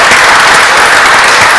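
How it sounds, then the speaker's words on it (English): Loud, dense audience applause fills a debating society hall, a continuous wash of many hands with no voices. "give a round of applause for that story"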